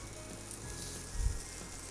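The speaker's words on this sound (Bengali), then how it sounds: "চারিদিক থেকে উল্টে পাল্টে ভালো করে এটা ভেজে নিতে হবে" Chicken kabab frying in a pan on a gas stove, giving a faint, steady sizzle with one soft thud of the pieces being turned, with no talk.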